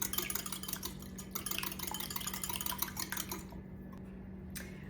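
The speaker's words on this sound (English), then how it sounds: "This is the small stainless whisk, and this is the 3-cup prep bowl. You wanna just get your eggs mixed up slightly." A small stainless whisk beats eggs in a 3-cup prep bowl, a fast, even clatter of metal wires against the bowl that runs for several seconds and then stops.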